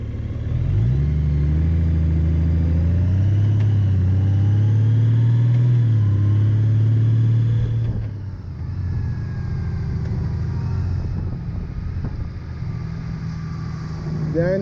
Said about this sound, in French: Je vais vous laisser constater le changement de vitesse. Ça se fait automatique.